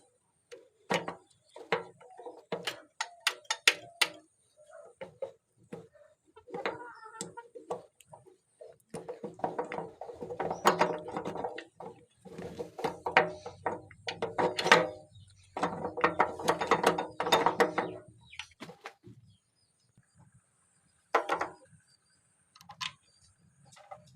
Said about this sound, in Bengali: এখন আমরা নাটগুলো টাইট করে নেই।